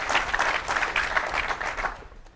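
Audience applause at a developer conference session on Visual Basic, a steady wash of many hands clapping that holds for about two seconds and then fades out quickly.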